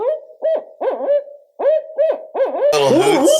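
Barred owls hoot in a rapid series of close, loud calls with rising and falling inflections, the hoots repeating in quick bursts and ending in a harsher overlapping cackle.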